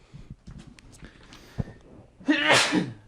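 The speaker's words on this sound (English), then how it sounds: "Four medium sneezes." A single loud, sharp sneeze bursts out near the end, preceded by soft sniffing, breathy snorts and small clicks.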